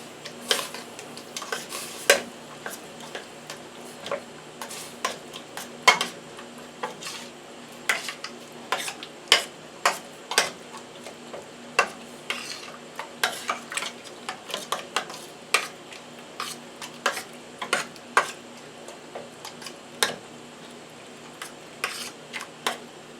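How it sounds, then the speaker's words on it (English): A spoon stirs molasses into a mixture in a pot for chili-stuffed cornbread, producing many quick, sharp clinks and scrapes against the pot in an irregular rhythm, close up and without talk. "we're going to mix that up"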